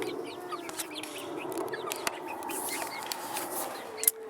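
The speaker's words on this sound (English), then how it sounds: "that is the Kennedy chicken coop" Hens cluck and murmur in a backyard chicken coop, a steady low chatter of several birds at moderate distance over faint outdoor background, with occasional sharper calls.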